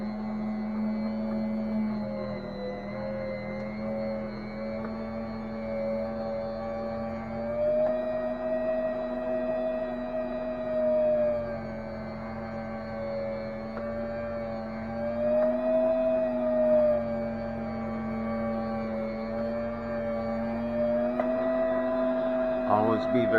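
A meat slicer's motor hums steadily and close while slicing a thawing venison hindquarter into strips, a sustained tonal whine with slight pitch wavers as meat passes the blade, and someone talks over it.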